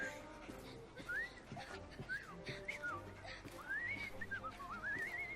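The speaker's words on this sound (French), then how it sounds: "je viens simplement d'apprendre à siffler." Someone whistles a wandering, sliding tune in short phrases over quiet background sounds and faint murmuring, a character in the video game Assassin's Creed Syndicate.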